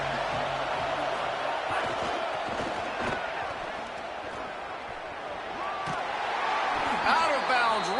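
Dense stadium crowd roar from a college football video game, Ohio State versus Alabama, a steady loud wash of cheering that swells near the end, with commentary talking over it.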